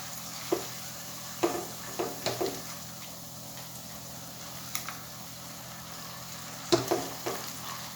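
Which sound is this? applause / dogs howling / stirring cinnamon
stirring cinnamon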